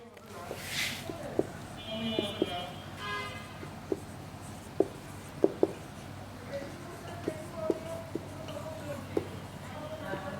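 Writing on a board during a maths lesson, a run of short tapping and scratching strokes, close but quiet, with brief gaps and some background noise.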